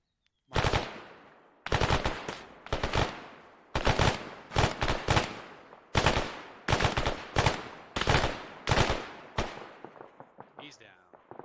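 Rifle fire in ARMA 3 cracks out in loud, close bursts: a rapid series of sharp shots in short volleys with brief gaps, each echoing off, alone without talk.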